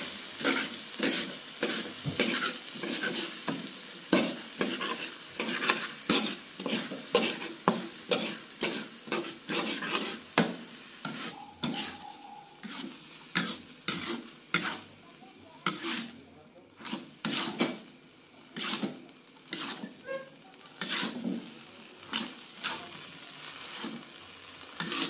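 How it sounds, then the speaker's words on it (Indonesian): Bihun vermicelli filling for martabak Madura stirred and fried in a pan, rhythmic scraping strokes of a spatula over a continuous sizzle for a long stretch, close and moderately loud. "Aduk-aduk sampai bumbunya merata."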